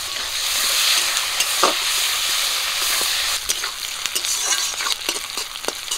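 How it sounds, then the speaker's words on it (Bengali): Panch phoron, chopped onion and split green chillies hit hot oil with a loud, steady sizzle, and stirring clinks and scrapes cut through the frying hiss now and then. "গরম তেলে দিয়ে দিচ্ছি পাঁচফোড়ন, পেঁয়াজ কুচি, কাঁচা লঙ্কা চেরা,"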